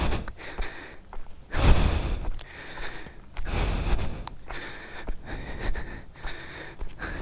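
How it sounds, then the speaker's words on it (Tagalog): Heavy panting from a hiker climbing toward a summit on the Great Wall of Baguio, loud close breaths in uneven waves of rough sighs and gasps, heard alone without talk. "hingal."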